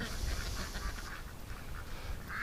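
Ducks quacking close by on a homestead, several short nasal calls coming in quick bursts over soft background noise.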